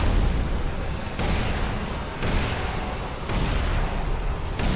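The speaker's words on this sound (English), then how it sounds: "I got grenades" Grenade explosions in ELEX, a run of heavy booming blasts about a second apart, each a broad roaring burst that rolls into the next with no talk over them.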